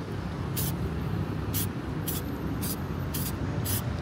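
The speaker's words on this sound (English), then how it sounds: "Dah spray pula primer ni." Rapid short bursts of hissing primer from a spray can, six quick puffs in a row, over a steady low background hum.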